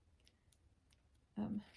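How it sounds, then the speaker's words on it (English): A single quiet snip of dull scissors cutting through yarn, a short soft crunch after near silence. "scissors have now dulled to the point where there's a sharp spot that I have to hit the yarn with"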